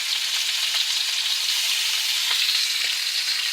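Steaks slow cooking over medium-high heat in a pan give off a steady, even sizzle, constant and close with no talking.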